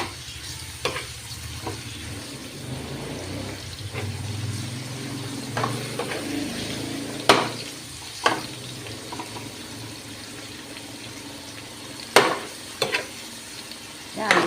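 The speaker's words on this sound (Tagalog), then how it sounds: "Yan, gisa-gisa lang po siya." Vegetables sautéing in a hot pan, a steady sizzle and hiss with occasional sharp clanks and scrapes of a spoon stirring, loud and close with no talking.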